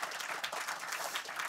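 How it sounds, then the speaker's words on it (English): A room full of people claps steadily, dense even applause throughout the short moment. "Applause for Marieke."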